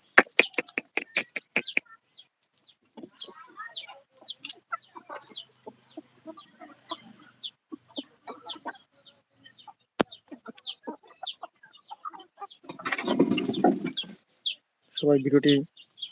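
Chickens, native and Siamese breeds on a poultry farm, cluck and chirp repeatedly at close range, with a rooster-like burst near the end and quieter rustling between calls.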